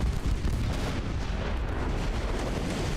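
Secondary guns on a warship firing at a battleship in the naval game Ultimate Admiral: Dreadnoughts, 1902 campaign, a dense, continuous roar of overlapping cannon fire and booms with no voices.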